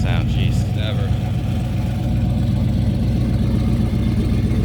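A 1970 Chevrolet Chevelle SS with a 396 V8 and four-speed idles loud and close in a steady rumbling burble. Voices chatter briefly over the start.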